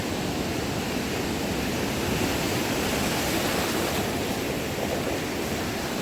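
Steady ocean surf roars continuously, a broad wash of breaking waves with no voices, loud and close.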